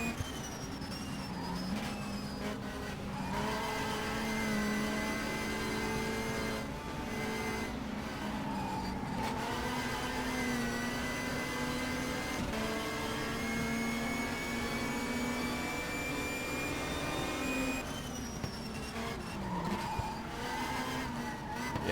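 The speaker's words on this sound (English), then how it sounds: "I downshift there just to make sure that the car does slow down enough but I can keep enough speed" A 1992 BTCC touring car in the racing game Race 07 at Mallory Park drones with a loud, sustained engine whine whose pitch drops and shifts several times as it changes gear.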